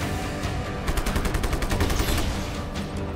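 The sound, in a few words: gunfire in video game Just Cause 3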